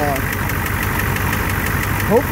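A Ford 7.3 IDI diesel engine idles close by with a steady, rhythmic knock ticking over the low rumble.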